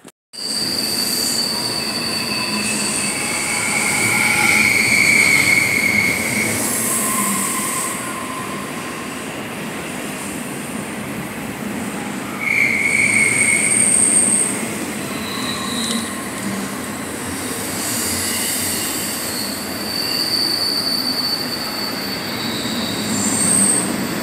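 A train rolls past continuously near a bridge over a river, its wheels giving steady rumbling clatter with repeated high metallic squeals rising and fading throughout, fairly close and with no talking.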